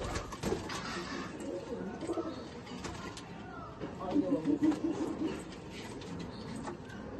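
Pair of pigeons cooing softly in a home loft, a short run of throaty coos rising mid-clip over background chatter and room noise.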